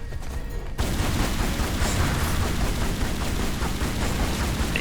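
Sustained rapid gunfire from a Resident Evil game played with the Anniversary mod, starting abruptly after a brief quiet moment and continuing as a dense, loud, steady barrage to the end.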